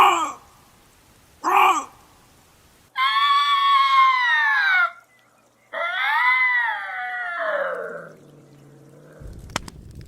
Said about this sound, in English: I suppose this could be a weird sounding bobcat scream